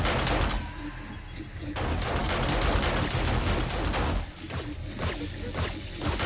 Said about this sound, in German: Da draußen schießen jetzt mal unsere Geschütztürme auch.